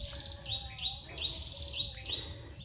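Repeated bright bird chirps and tweets ring out in a steady rhythm in a mountain forest on Mount Salak, over a low rumbling outdoor background, fairly close and clear.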